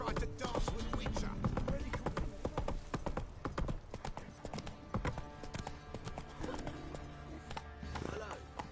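Roach, a horse in the video game Witcher 3, walks with a close, brisk clip-clop of hooves that repeats in an uneven rhythm, with a brief snort and some game chatter mixed in.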